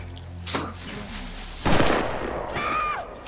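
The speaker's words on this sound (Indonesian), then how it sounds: "Ketika lari, Gorman langsung menembak kaki pacar Ishak." A film gunshot: a sharp, loud report cracks out near the middle, preceded by a smaller impact and followed by a fading tail and a brief tonal sound.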